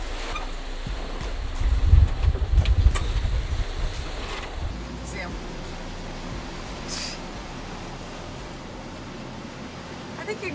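Rough ocean waves and gusting wind batter a boat at sea in a steady wash of broadband noise, with heavy low rumble and wind buffeting on the microphone near the start.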